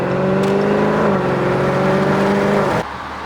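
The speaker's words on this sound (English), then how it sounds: "It's Ferrari casually cruising around." A Ferrari cruising casually on a road, its steady engine hum and whir holding level for several seconds before cutting off abruptly near the end, fairly close and with no voices.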